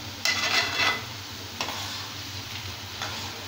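Kara boondi frying in hot oil gives a faint, steady sizzle, broken by a few brief scraping stirs of a ladle against the pan.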